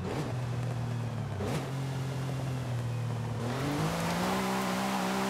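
A Porsche 911 Sport Classic engine in a racing video game drones steadily, its pitch dipping briefly then climbing as it revs higher, loud and continuous with no talking.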